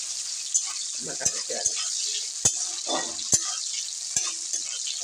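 Onion and tomato frying in hot oil, a steady bright sizzle with a few sharp stirring clacks of a utensil against the pan, close and continuous.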